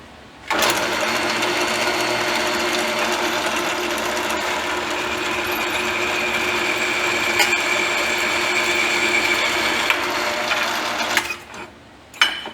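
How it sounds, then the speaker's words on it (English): Power drill boring 1/2-inch holes through steel pieces of a homemade gooseneck trailer, one steady close whine running for about eleven seconds before cutting off. "We got to drill 1/2-inch holes."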